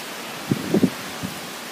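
Typhoon winds lash the trees in front of a house with a constant loud, broadband roar, broken by a few low gusty thumps.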